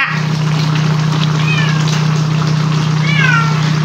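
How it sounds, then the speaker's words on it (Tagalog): A cat meows twice near the microphone over a constant humming background while food is being cooked, with the two short cries a second or so apart. "Nakihingi naman ng pusa."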